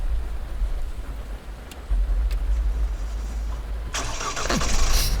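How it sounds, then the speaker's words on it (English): A bus engine starts up in the Fernbus Simulator driving game, with a low rumbling idle throughout and a louder hissing, rising start burst near the end. "let's hop on and start up today's bus"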